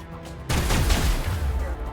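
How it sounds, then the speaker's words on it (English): Gunfire in Mass Effect 1 Legendary Edition, a sudden loud burst of shots after a brief quiet lead-in, rolling into a dense, booming volley that stays heavy to the end. "Who's shooting?"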